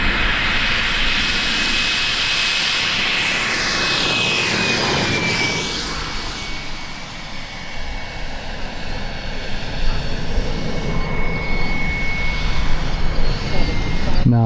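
A model airplane in flight gives a steady, loud high-pitched engine whine that holds constant, shifts pitch as it passes about midway, and then keeps droning on.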